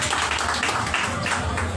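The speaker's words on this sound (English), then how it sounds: "Please give me a big round of applause." A live audience gives a round of applause at an official appointment event, steady dense clapping filling the whole stretch at moderate loudness.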